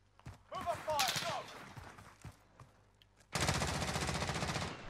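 Gunfire in The Finals video game: scattered shots and harmonic weapon sounds give way to a sustained loud burst of rapid automatic fire, with a voice talking over the earlier part.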